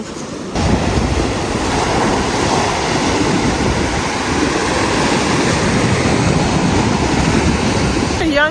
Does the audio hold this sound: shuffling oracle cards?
no